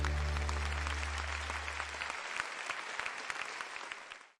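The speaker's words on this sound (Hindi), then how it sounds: "एक बार तालियां बजाएं गार्जियंस के लिए।" An audience at a student celebration event claps for the guardians, a dense burst of applause under a fading low musical tone that thins and cuts off abruptly.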